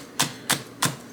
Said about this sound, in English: I'm just chopping up one more green onion.